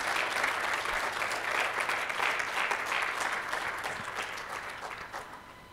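An audience clapping together, a dense sustained burst of applause that gradually tapers off toward the end.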